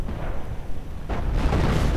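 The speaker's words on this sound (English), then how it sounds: "Artillery against the British positions right here" Artillery shells landing on British positions in a World War II strategy game, a run of low booming blasts and rumbling impacts that thicken toward the end, fairly loud and unbroken.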